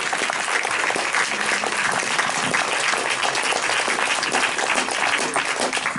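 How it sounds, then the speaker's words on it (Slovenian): A congregation applauds during Mass at Kurešček, a steady, dense wash of clapping from many hands filling the church for the whole stretch, fairly loud and even, with no speech over it. "let's give Jesus a round of applause"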